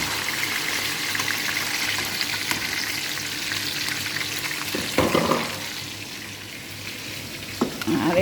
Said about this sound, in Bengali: দুইটা রূপচাঁদা ভাজা করলাম।